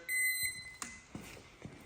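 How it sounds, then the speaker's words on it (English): A newly assembled dump-bed style mobility scooter gives a single clear electronic beep tone from its turn-signal buzzer, followed by faint clicks and handling noises nearby. "it does beep when you use the blinker"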